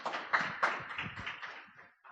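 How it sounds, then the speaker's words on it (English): Audience applause at a social justice research symposium panel, a dense crowd of clapping hands with a few louder bursts, sustained for about two seconds before fading out abruptly. "Can we please give another round of applause to our brave fellows?"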